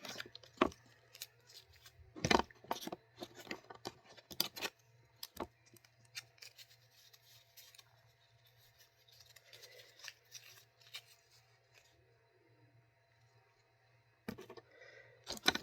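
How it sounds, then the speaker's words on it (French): Candy Land game cards being unwrapped, with crisp crinkling, snipping and shuffling bursts up close. Busy handling at first, a quieter stretch of soft rustling, then brief crackles again. "il faut défaire les cartes une par une"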